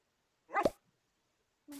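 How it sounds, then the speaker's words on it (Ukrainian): A single short dog bark sounds close by, followed by quiet and then a brief tonal noise at the end. "Собака це завжди круто."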